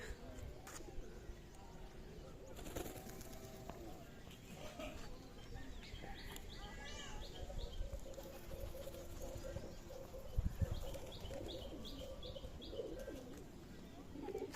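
Pigeons cooing repeatedly inside a loft on a pigeon farm in Bangladesh, with soft chirps and a steady background murmur; the calls come in short rhythmic bursts, moderately close.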